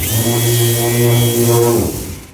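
A ToughBuilt battery-powered random orbital sander with a 3/16-inch (5 mm) orbit and a variable speed trigger runs loud and close as a steady motor whine, then winds down at the end.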